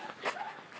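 A dog panting close by in quick, soft breaths, brief and fairly quiet.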